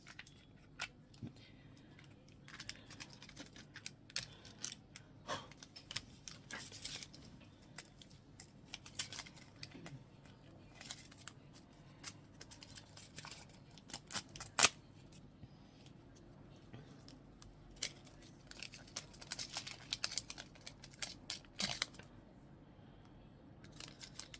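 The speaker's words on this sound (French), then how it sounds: "Les ciseaux. Ils sont tout minuscules." Tiny scissors snip through plastic packaging at a shein haul unboxing, with sparse, quiet irregular clicks and small cuts scattered over a faint background, no talking.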